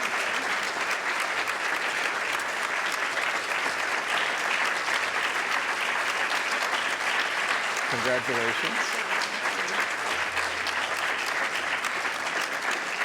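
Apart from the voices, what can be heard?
audience applause at a prize ceremony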